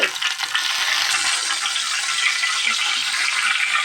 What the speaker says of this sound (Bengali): মাছগুলো আমি এই কড়াইতেই ভেজে নিয়ে আসি একটু হলুদ আর লবণ দিয়ে